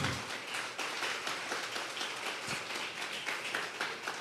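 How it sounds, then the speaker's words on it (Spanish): A church congregation claps hands during a Sunday service, steady rhythmic clapping from many people, fairly faint and diffuse, as if heard from within the hall. "dele fuerte esas palmas al Señor."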